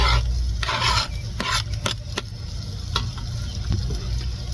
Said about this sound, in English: because I want to add in my onions and garlic.